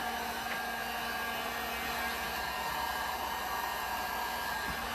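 A hot air tool heating resin on a sand painting makes a continuous, even blowing hiss that stays close and steady without a break.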